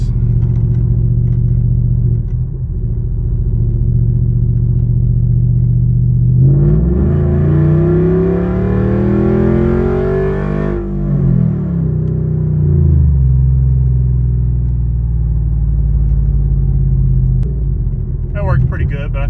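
A car engine with a newly fitted 4.5-inch gauge cluster idles steadily, then revs up in a long sweep and falls back to idle. A short burst of clatter comes at the end.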